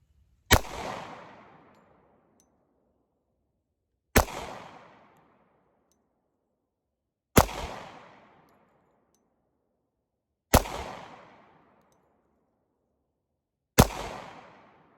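Five single pistol shots from an SDS Import Tisas A1 1911 at a shooting range, each a sharp loud crack with a decaying echo, spaced about three seconds apart.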